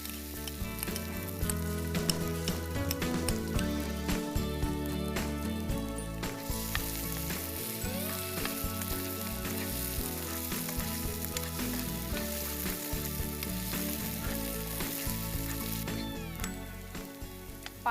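Two large bananas, finely chopped, cooking in a pan for a sweet snack, giving a continuous close sizzle with occasional stirring clicks and scrapes throughout, with no talk.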